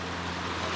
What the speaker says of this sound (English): it's like a little paradise spot here with a waterfall